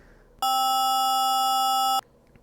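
A single bright, buzzy synthesized tone from the LSDJ wave channel holds steady for about a second and a half, then cuts off abruptly, loud against a quiet background.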